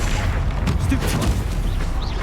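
Stupefy spell cast in Hogwarts Legacy combat: sharp magical bursts and booming impacts over dense, continuous battle noise, with no clear pause between hits.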